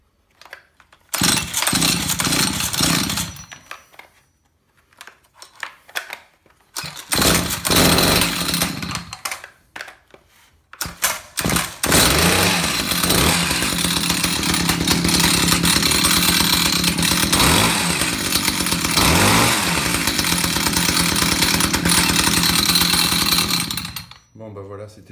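A Stihl HS 45 hedge trimmer engine is being serviced. It sputters to life in short bursts that cut out, then catches and runs at a loud buzzing idle with revving, close by and steady until it stops.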